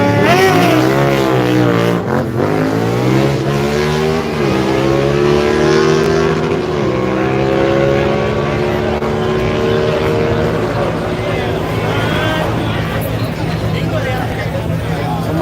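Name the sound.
car doing a burnout at dragstrip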